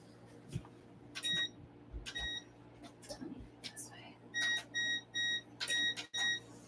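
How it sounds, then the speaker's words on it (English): Several short electronic beeps, high-pitched, coming in quick pairs and clusters near by, with quiet room noise and soft movement between them. "Sorry for the annoying beeps."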